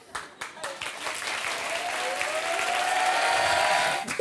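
Studio audience applause on a French television talk show, a dense wash of clapping that swells after a few scattered claps and holds steady for several seconds, with faint voices underneath.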